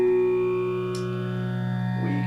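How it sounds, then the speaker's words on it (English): An electric guitar chord sustains through an Alexander Calavera phaser set to a slow rate, giving a smooth, lush sweeping tone that rings steadily with a brief pick scrape partway through. "we're back to this nice, lush, non-disturbing phase sound"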